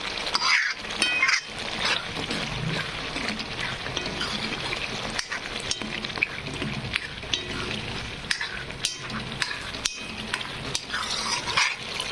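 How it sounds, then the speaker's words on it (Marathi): Masala spices sizzle and fry in oil in a pan for a kadhi made with chana dal, with steady crackling and frequent clinks and scrapes of a stirring spoon against the pan. "मसाले फ्राय होत आहेत"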